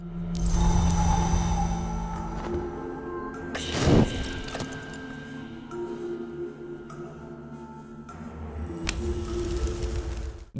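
Tense, droning game music with sustained tones and a sharp swelling burst in the middle, layered with mechanical noises.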